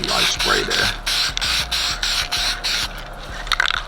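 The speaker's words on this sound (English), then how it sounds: "Do 1 little light spray there." A spray paint can hisses in several short bursts, close by, with brief pauses and faint rattling between sprays, as a light coat goes onto a car dashboard.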